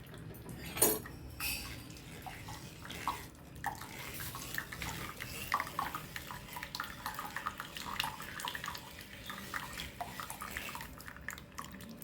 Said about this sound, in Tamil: அதனால் வந்து அதையும் நல்லா ஃபில்டர் பண்ணி எடுத்துக்கணும்.